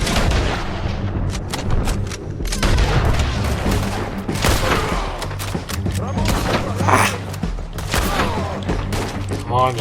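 Gunfire from the video game Red Dead Redemption II: rapid overlapping gunshots crack and boom in dense bursts, loud and close, mixed with shouting voices and game dialogue.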